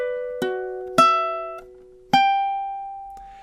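Ukulele plays a slow passage from a song: four plucked notes spaced unevenly, each ringing and sustaining cleanly and close in an otherwise quiet room.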